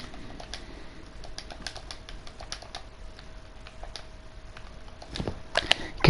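Light plastic clicks from a game controller D-pad tap out in scattered, uneven bursts at close range over a quiet background, with a short flurry of louder clicks near the end.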